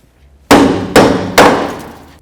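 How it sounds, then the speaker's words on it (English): Three loud, close metallic bangs of a hammer striking a seized front strut on a 2008-12 Chevy Malibu, evenly spaced about half a second apart, each ringing briefly before fading. "Use a little bit of penetrant and then carefully bonk right along here until it finally breaks free."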